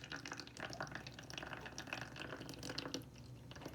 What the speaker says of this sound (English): this polluted water we are now pouring into the new container